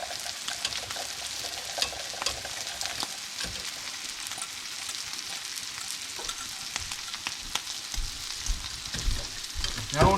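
A spoon keeps sausage gravy moving in a hot pan as the milk heats, with a continuous bubbling sizzle and frequent scraping stirs close by.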